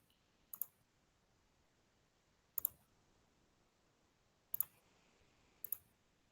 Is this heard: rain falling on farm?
no